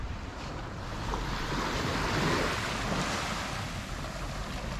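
Steady wash of ocean surf rolling onto Naithon Beach, broadband and continuous, swelling slightly mid-way, with light wind buffeting the microphone.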